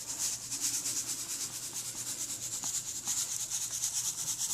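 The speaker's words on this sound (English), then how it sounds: "I'm going to take my sand, which is right here" Sand is sprinkled over glue on a shelf for a Star Wars R2-D2 display, making a soft, close, steady hiss that pulses in rapid waves.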